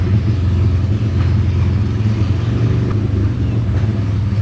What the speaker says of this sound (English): my neighbor is fixing his motorcycle